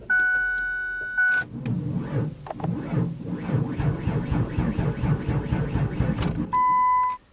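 A 1995 Ford Windstar with a dead battery fails to start: a dashboard chime sounds, then a rapid, weak stuttering starter clatter runs for several seconds without catching, ending with the chime again.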